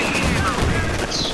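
A machine gun in the strategy game Company of Heroes fires a sustained, loud burst of rapid shots in the thick of a 4v4 battle, with dense layered gunfire and a whistling sweep near the end.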